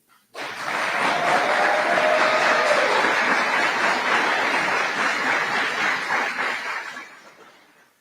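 A crowd at a ribbon-cutting ceremony for a training centre breaks into loud, sustained clapping that starts abruptly, holds steady, then tapers off toward the end.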